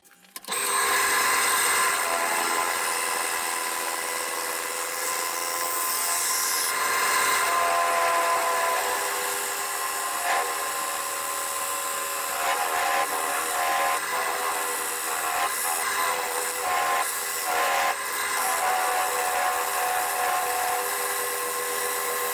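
A wood lathe turns a tenon on a padauk box blank, with a continuous high whine as the tool cuts, holding steady throughout with slight shifts in pitch and grain scraping, close and loud with no voices.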